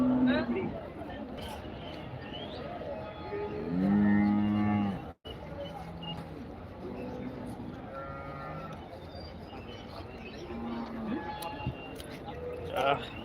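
Cattle at the Erode Karungalpalayam livestock market moo in several long, loud calls, one close and deep, others farther off, amid a steady murmur of people talking in the market.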